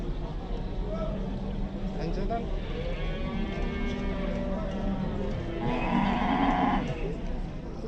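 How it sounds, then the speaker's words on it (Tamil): A black horse at a Kyrgyzstan animal market whinnies amid a busy outdoor bazaar, the neigh rising clearly for about a second near the end over steady background chatter and livestock noise; people talk throughout. "இந்த குதிரை பாருங்கள், பிளாக் கலரில் இருக்குது."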